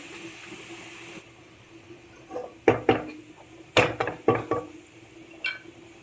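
Golden-brown fried onions and curry leaves are scooped out of a pan for fish biryani, giving several sharp metallic scrapes and clinks from a spoon against the pan over a low sizzling hiss, with no talk.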